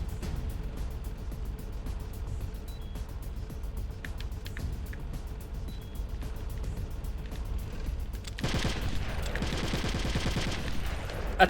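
Enemy gunners open fire in Metal Gear Solid: The Twin Snakes, a steady rattle of automatic gunfire that thickens into a dense continuous burst toward the end, heard alone without talk.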